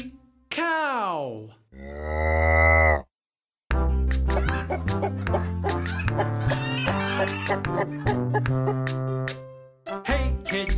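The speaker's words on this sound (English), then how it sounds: "Cow." Two loud, drawn-out cow moos sound close up, one after another. Then a bouncy children's song with bright instruments comes in and plays on.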